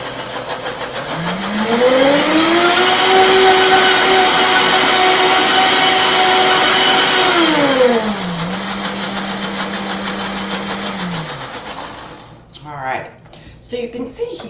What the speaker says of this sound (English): Let me grab my lid, and I'm going to blend this up.